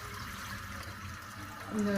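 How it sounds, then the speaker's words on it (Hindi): Water splashes and rushes steadily as about a litre is poured into a cooking pot, close and fairly quiet, with faint voices in the background. "1 लीटर जो हमारे पास पानी था ये हम डाल देंगे"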